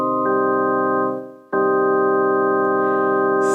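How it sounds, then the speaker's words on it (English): Organ sounding a sustained minor chord in two long held blocks, the second entering after a brief dip in volume, steady and full with no voices. "So that's the sound of a minor chord."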